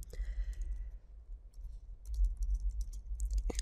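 A computer keyboard clicks as text is typed into an HTML web page, with scattered, close keystrokes coming in short bursts over a low background hum.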